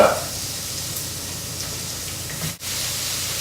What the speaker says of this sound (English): Grill that up.